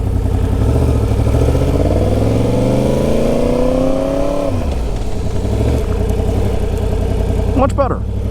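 A 1000cc motorcycle ridden at low speed, its engine close and loud, revving up with a steadily rising pitch before rolling off the throttle and settling into a lower, uneven idle-like rumble.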